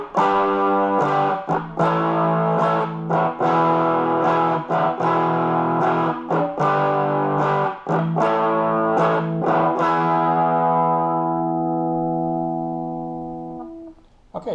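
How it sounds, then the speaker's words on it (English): Electric guitar on the bridge pickup played through a Philco radio guitar amp at full volume with no added gain, giving a clean overdrive distortion; strummed chords ring loud and sustained, then the last chord decays slowly. "a nice clean overdrive type of distortion without any added gain and the volume full up"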